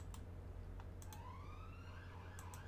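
Emergency vehicle sirens in the Cities Skylines city-building game wail faintly in the distance. Rising and falling tones sit over a low hum, with a few sharp clicks.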